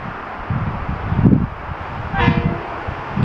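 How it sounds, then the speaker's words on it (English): A Metro North commuter train passes at Stratford, a broad rumbling wash of rail noise with wind-like hiss, swelling and easing as the cars go by, with no talking. "here comes another Metro North on the other side, so let's just watch it."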